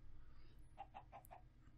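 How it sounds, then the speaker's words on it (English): A Minecraft chicken gives four quick, evenly spaced clucks, quiet and a little distant, over a low steady ambient hum. "Oh, hello, chicken."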